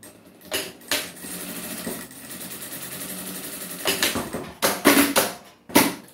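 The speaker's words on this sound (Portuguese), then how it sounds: "vou só passar uma costurinha aqui que é para dar acabamento" Sewing machine running in short bursts as it stitches a finishing seam across folded fabric on a small clutch-style phone holder, near and fairly quiet, with steady whirring stretches and a few louder spurts toward the end.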